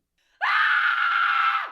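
A woman lets out a single sustained, piercing scream lasting over a second, loud and close, ending with a downward break, with no talk around it.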